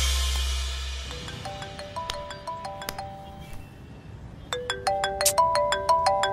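A phone ringtone plays a repeating melodic electronic pattern that goes unanswered, clear and fairly close, and grows busier and louder toward the end after a brief low rumble at the start.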